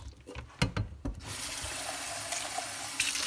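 A few hard clanks from a can of black beans come first, then tap water rushes steadily over the beans in a sink as they are rinsed, loud and close.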